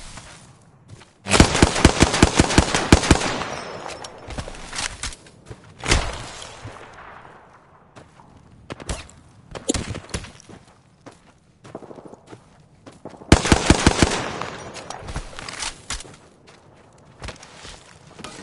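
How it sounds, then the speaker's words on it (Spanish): Bursts of automatic gunfire in the video game Apex Legends, two loud dense volleys of rapid shots separated by scattered single cracks, thuds and footsteps, no talk. "¡Me están disparando!"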